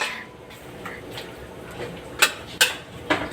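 Ginamay with dried fish being stirred in a cooking pot, a few sharp metallic clinks and scrapes of a utensil against the pot, close and distinct over quiet background.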